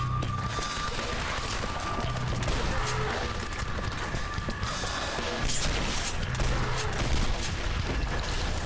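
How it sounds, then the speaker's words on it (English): Enemies blowing up in the shooter game Legendary: a dense, continuous barrage of sharp blasts and gunfire-like bursts, loud and close, with no talking. "They're all exploding, and I can't tell why."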